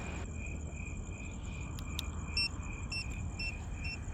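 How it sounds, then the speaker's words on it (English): A 2024 Apollo Go electric scooter gives short, evenly spaced turn-signal beeps. They sound over a steady high electronic whine and low background hum. "There's the audible beeping for the turn signals."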